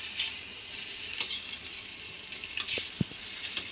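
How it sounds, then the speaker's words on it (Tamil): Chicken fried rice with egg is stirred and tossed in a hot pan, giving a continuous sizzle with scattered scraping and clicking spoon strokes, a couple of distinct knocks near the end, all close up and without talk. "இப்போ இதை நல்லா கிண்டணும்."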